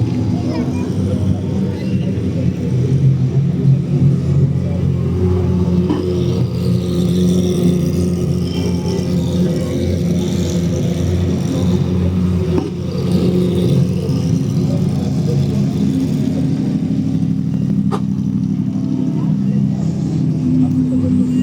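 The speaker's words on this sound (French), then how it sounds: "Magnifique M4 qui hurle à la mort, une Seat, une Cupra, incroyable." Race cars, including a BMW M4 and a Seat Cupra, rumble and rev loudly at the 12 Hours of Spa endurance race, with engine drone sustained throughout and occasional sharper bursts, under crowd and ambient noise.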